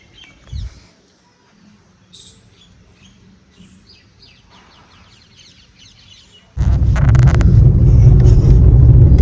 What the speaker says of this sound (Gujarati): પક્ષીઓનો કલરવ અવાજ, ચકલોનો અવાજ,